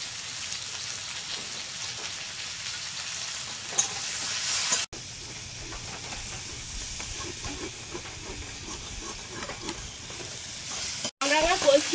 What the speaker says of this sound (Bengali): লবণ আর হলুদ দিয়ে কামরাঙাটা কষিয়ে নেব।